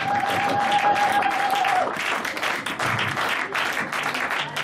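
A church congregation bursts into sustained applause, dense and steady clapping filling the room alongside a faint crowd murmur.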